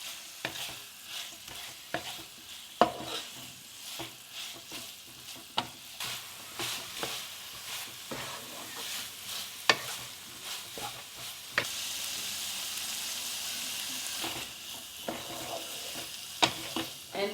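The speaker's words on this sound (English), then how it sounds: "Finally, add your fennel powder, stir it well and cook it for 5 minutes." Elephant apple relish with fennel powder cooks in a pan, a steady soft sizzle under repeated scraping stirs and light knocks of the spoon, close and continuous throughout.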